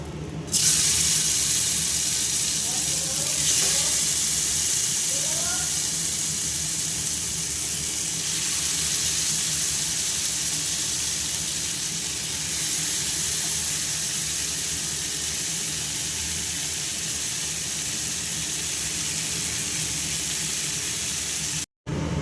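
Chicken pieces fry in a pan for tandoori chicken, giving a steady, even sizzle that runs unbroken for over twenty seconds, with a few faint clinks near the start.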